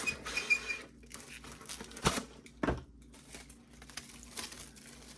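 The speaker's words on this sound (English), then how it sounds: "I'll take some plastic wrap." Plastic wrap is pulled from a roll and crinkled in a home kitchen while covering pizza dough, with soft, intermittent rustles and a few sharp tearing crackles, close and quiet.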